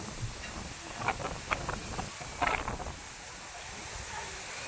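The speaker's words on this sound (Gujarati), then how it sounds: "આપણે આવ્યા છે મમ્મીના ઘરે અને બહુ જ પવન છે" Wind blows steadily, buffeting the microphone with a constant rumbling hiss and a few stronger gusts in the middle.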